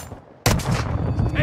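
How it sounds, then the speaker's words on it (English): A sudden loud burst of automatic gunfire erupts in the Call of Duty DMZ shooter after a quiet moment, close and sustained rapid shots with a sharp onset. "Taking effective fire"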